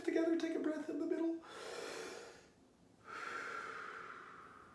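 A child draws a deep, audible breath in during a mountain yoga pose, followed by a soft pause and a longer airy exhale, all faint, just after brief talk.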